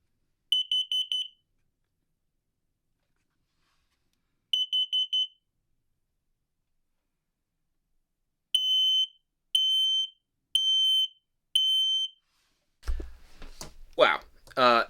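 A carbon monoxide and propane detector in an Airstream RV is tested, giving loud, piercing electronic beeps: a few well-spaced bursts, then a quicker run of four, followed by a person talking.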